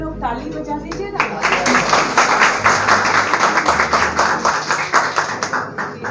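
An audience claps on request, with a burst of scattered applause that builds and carries on under a voice on a microphone.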